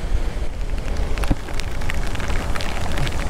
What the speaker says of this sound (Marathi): आई शपथ पाऊस जोरात चालू झाला आहे, जोरात.